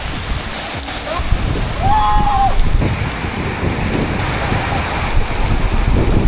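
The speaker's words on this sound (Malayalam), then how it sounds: "നല്ല മഴയുണ്ട്" Heavy rain on a misty Kerala hilltop at Kalimala pours in a dense, steady hiss, with a few faint whistling tones briefly rising above it.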